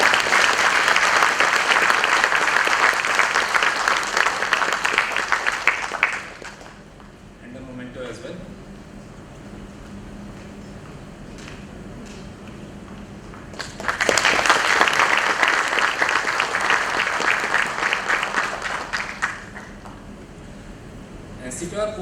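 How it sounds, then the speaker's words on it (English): Two bursts of strong clapping from the audience at a foundation day ceremony, each lasting several seconds, separated by a quieter stretch with a voice over room hum. "Yeah, a round of applause, please."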